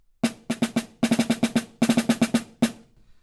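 Snare drum played alone, a measure from an etude with bursts of sixteenth-note triplets in a lilting triple feel, crisp close strokes grouped in quick clusters with short gaps.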